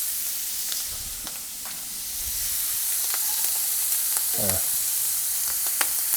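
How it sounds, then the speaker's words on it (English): Shrimp with sliced garlic and a heavy knob of butter sizzle hard in a very hot pan, a steady close frying hiss with small crackles and pops throughout, no voices. "Let's just throw our shrimp straight into that ripping pan, followed by our sliced garlic"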